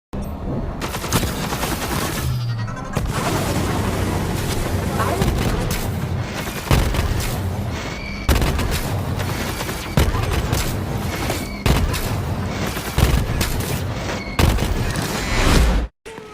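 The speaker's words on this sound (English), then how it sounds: "It was marshmallow rockets. That was basically what the gun was firing." A marshmallow rocket gun in Borderlands 3 fires in a dense, sustained barrage of rapid booming shots and blasts for over fifteen seconds, loud and unbroken, then cuts off abruptly, with a voice talking underneath.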